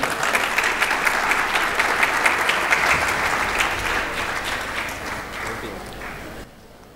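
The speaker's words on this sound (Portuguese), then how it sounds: "recibamos con un afectuoso y cariñoso aplauso" Audience applause at a pediatric dentistry conference session, a dense wash of many hands clapping that runs steadily for several seconds before tapering and dropping away near the end.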